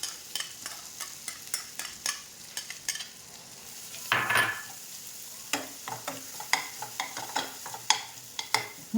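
Ground masala paste roasts in a pan over a low flame for village-style chicken sukka. Soft sizzling sits under a rhythmic series of spoon strokes scraping the pan, with one brief louder burst midway.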